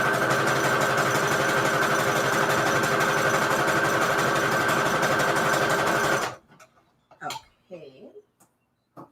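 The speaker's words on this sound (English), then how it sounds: "I am just going to keep sewing the strip" A sewing machine runs steadily for about six seconds, stitching a Christmas fabric scrap strip for a junk journal cover, then stops abruptly. Afterward come a few faint clicks and some soft talking.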